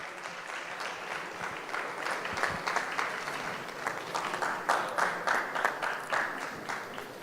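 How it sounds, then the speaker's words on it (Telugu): A large audience claps steadily and densely throughout, welcoming Chief Minister Chandrababu Naidu at a Semi-Christmas celebration in a Vijayawada convention hall. Loud sustained applause with scattered individual claps standing out near the end. "అందరూ కూడా చేతులతో చప్పట్లు కొడుతూ చంద్రబాబు గారిని మన మధ్యకు ఆహ్వానిద్దాం"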